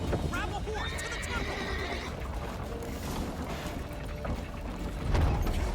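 A horse in The Witcher 3 video game gives a sharp whinny while its hooves clip-clop at a gallop, under ongoing talk.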